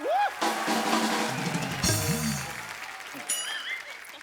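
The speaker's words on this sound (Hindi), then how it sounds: "जोरदार तालियां टाइगर भाई के लिए।" Studio audience on a Hindi comedy talk show applauds for an actor known for action stunts; clapping is mixed with loud voices, shouts and whooping, with a brief sweeping effect partway through.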